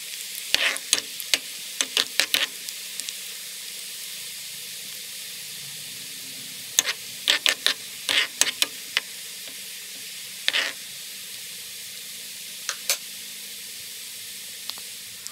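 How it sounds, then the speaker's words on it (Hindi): Orange peels cooking in oil in a pan give a quiet background hiss broken by sharp crackling pops, some in quick clusters and some alone, close by and with no talking. "ये देखिए इसे मैं पका रही हूँ और हम इसे इतना पकाएंगे"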